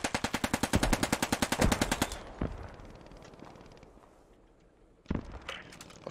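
A loud, fast burst of machine-gun fire in a military video game, about two seconds of evenly spaced shots. Quieter ambient battle noise follows, then a couple of sharp single impacts near the end.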